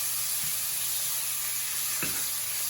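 Thin shaved beef sizzles loudly in a hot stir-fry pan, a steady bright hiss with a few clanks and scrapes as it is stirred, close up and with no one speaking.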